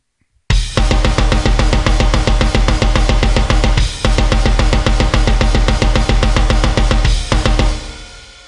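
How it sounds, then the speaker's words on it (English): Loud, dense drumming pounds out a rapid, relentless blast beat with cymbals and kick hits, stopping briefly once before racing on and fading out. "that is a pretty successful blast beat"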